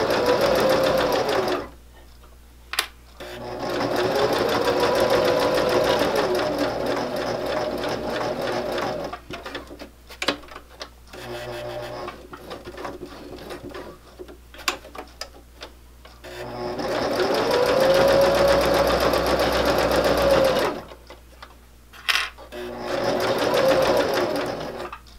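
A sewing machine stitches a fabric coaster in long whirring runs of rapid needle clatter, broken by brief pauses and clicks where the fabric is pivoted, loud and close.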